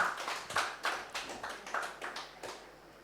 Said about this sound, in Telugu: గట్టిగా క్లాప్ చేస్తాం